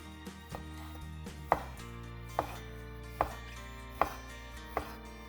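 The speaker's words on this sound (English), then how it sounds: "Chop 120 grams of smoked brisket into small cubes and add it to the egg mixture." A kitchen knife chops smoked brisket into small cubes on a board, five sharp knocks falling at a steady, unhurried rhythm over a low background hum, close and clear with no talking.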